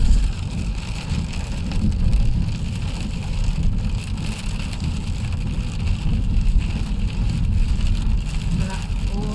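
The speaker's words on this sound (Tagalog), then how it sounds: "sobrang maulan" Heavy rain falls while a car is driven at night, producing a loud, steady wash of rain on the vehicle over a low rumbling road and engine drone throughout.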